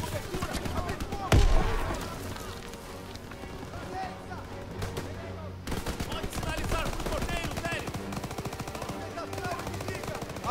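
Rapid bursts of machine gun fire in Call of Duty WW2 on Xbox One, with a sharp blast early on, rattling volleys throughout and voices talking over the game audio.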